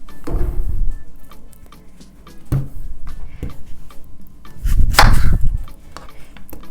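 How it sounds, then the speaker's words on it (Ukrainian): A knife taps and chops on a cutting board in irregular strokes, slicing onions into thin half-moons, with a few louder thuds, close by in a quiet kitchen. "І нарізаю їх тоненько півмісяцем."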